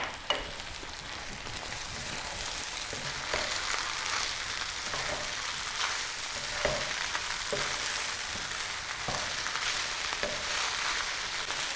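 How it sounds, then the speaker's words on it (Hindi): Boiled macaroni frying in a pan over a medium flame, a steady broadband sizzle with regular scraping stirs every second or so, close and fairly loud, no talking. "मैक्रोनी को हमने 3 से 4 मिनट मीडियम फ्लेम पर भून लिया है।"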